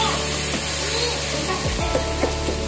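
Onions with ginger garlic paste fry in a pan for aloo palak, giving a steady, close sizzle with faint stirring scrapes, and no one talks over it.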